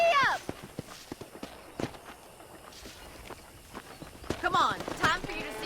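Hooves of a horse trotting on a ranch in the video game Red Dead Redemption, a steady clip-clop rhythm under character dialogue and a shouted command.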